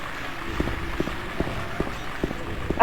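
Rhythmic mechanical thumping from a machine in the video game Silent Hill 2, like heavy running footsteps, repeating steadily about twice a second over a low background hum, at moderate loudness with no voices.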